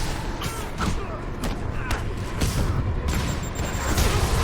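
A rocket explosion in the game Marvel's Spider-Man, a series of booming blasts and rumbling impacts with clanking debris over a dense, loud background.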